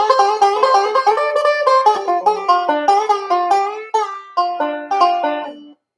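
Banjo playing a soft, dobro-style break: a run of plucked, ringing notes in a steady picked rhythm, played alone and fairly close, ending on a sustained note.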